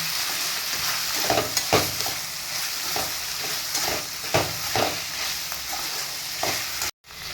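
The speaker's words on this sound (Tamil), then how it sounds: "புரோட்டா போட்டு நல்லா கிளறி விட்டு குருமா ஊற்றி கொதிக்கலாங்க" Parotta sizzles and fries in a pan, with repeated scraping and clanking strokes as it is stirred; a brief dropout near the end.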